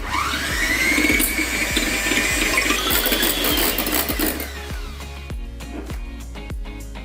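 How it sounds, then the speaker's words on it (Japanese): Fresh cream being whipped with an electric hand mixer, a high steady whine with rattling beaters knocking against the bowl, then the motor stops and a run of sharp clinks and taps follows, close and loud. "はい、じゃあ残りの生クリームを泡立てていきます。"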